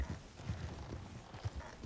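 Horse hooves clip-clopping in the video game RedM, a soft, uneven run of quiet hoof strikes with no talk over them.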